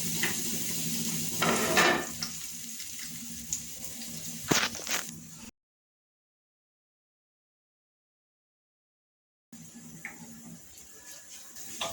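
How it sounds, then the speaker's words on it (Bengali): Chopped onions frying in hot oil in a pan, a soft sizzle with clinks of a utensil against the pan, broken by a stretch of silence before the frying resumes. "তেলটা গরম হয়ে গিয়েছে, দিয়ে দিচ্ছি 2টি পেঁয়াজ কুচি।"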